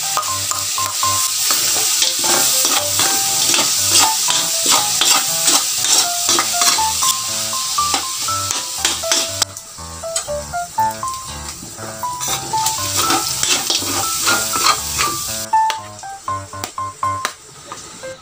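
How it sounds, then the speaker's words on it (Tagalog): Garlic sautéing in oil in a frying pan for Filipino ginisang pechay, a steady bright sizzle with repeated scraping stirs of a utensil against the pan, close and loud. "Isunod na nating igisa ang bawang."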